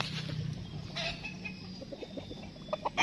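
Thompson White chickens cluck in a small backyard poultry pen of Mt. Banahaw line fowl, with low, soft clucks and a few sharper calls building toward the end over a steady murmur of the flock.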